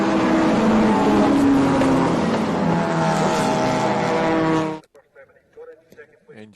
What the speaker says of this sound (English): Engine notes beginning to rise.